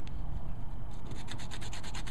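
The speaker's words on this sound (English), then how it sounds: "I just sanded down just barely through the wall" Sandpaper rubbing on a river cane arrow shaft, a close, steady scratchy hiss that becomes a quick run of rhythmic back-and-forth strokes partway through.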